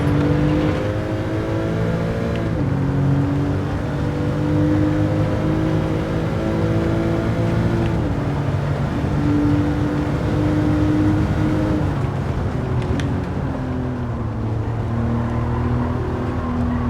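A car engine in the Gran Turismo 7 racing game hums steadily at low revs, with a droning tone that shifts up and down through gear changes and runs continuously and loudly with no talk over it.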